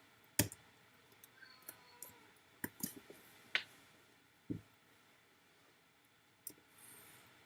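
A computer mouse clicks while browser tabs are dragged between windows, a handful of sharp, close clicks spaced irregularly over a quiet room background.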